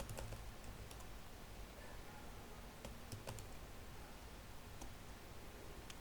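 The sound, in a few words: typing a name on computer keyboard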